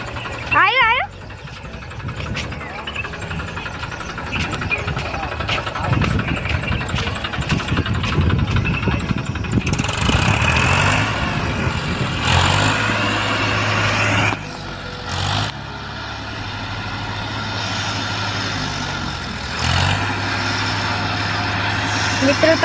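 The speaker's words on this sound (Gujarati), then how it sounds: "ટ્રેક્ટર મેં ચાલુ કરાવ પણ તો થતું નહીં ચાલુ" A tractor engine is cranked over and over without catching, rough rumbling bursts and sputters stopping and starting at close range, with a low idle-like drone between attempts outdoors in a village.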